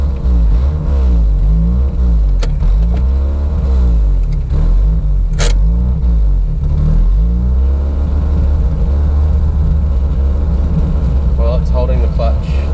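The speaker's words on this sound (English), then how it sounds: "Yeah, see, that's full throttle." A 1981 right-hand-drive Honda Accord engine revs hard at full throttle, a loud, steady, close mechanical roar that holds throughout, with people talking over it now and then.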